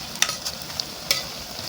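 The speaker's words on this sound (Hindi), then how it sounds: "अब यहाँ पे हम पकोड़े तैयार कर रहे हैं।" Pakoras for kadhi frying in hot oil give a steady close sizzle, broken by a few light clinks and stirring taps.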